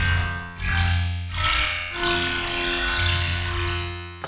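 A randomized Sylenth1 synthesizer preset plays a loud, dense electronic tone with distorted, buzzy texture and swelling bursts, held for a few seconds on its own with no talking.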